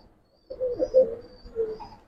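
Pigeons coo in a loft of Giribaz and coloured fancy pigeons, a few soft rolling coos close by, one after another with short pauses.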